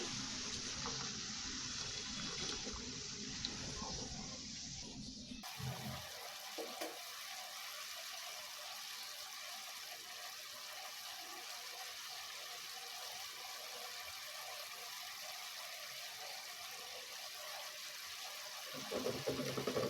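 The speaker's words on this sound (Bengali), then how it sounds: "আমি একটু গরম পানি দিয়ে দিচ্ছি" Hot water is poured into a pan of cooking banana flower fry, making a few seconds of loud splashing and gushing, then dropping to a faint, low simmer.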